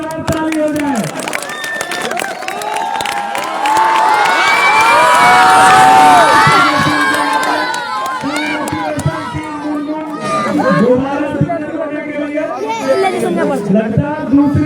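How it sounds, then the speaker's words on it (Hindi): A large crowd claps and cheers loudly at a village cricket trophy ceremony, with whoops and chatter rising to a peak midway, then settling into mixed talk and shouting with the applause continuing. "जोरदार ताली हो जाए।"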